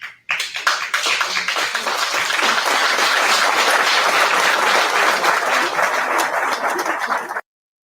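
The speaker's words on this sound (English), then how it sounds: "Yes, that was a lot of claps." An audience breaks into loud, close applause that starts suddenly, holds a dense, steady roar of clapping for about seven seconds, then cuts off abruptly.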